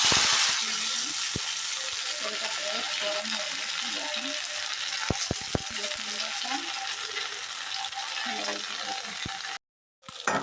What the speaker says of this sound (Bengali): এখানে তেলটা গরম হয়ে গেছে এখন ফোড়ন দিয়ে দেব